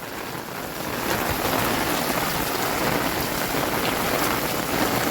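Heavy monsoon rain pours down in a dense, continuous roar, loud and close, with the downpour swelling after the first second and holding steady with no voices.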